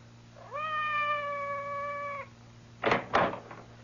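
A cat's drawn-out meow sounds from just beyond a door in a radio drama effect, one sustained cry lasting under two seconds, followed by a couple of short muffled knocks or bumps.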